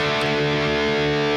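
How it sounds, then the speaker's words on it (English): A bass guitar plays through an engaged Tube Screamer 808 distortion pedal, giving one sustained, buzzy, gritty note that rings out loud and alone. "I'm going to put on the Tube Screamer, the 808, and once I engage that"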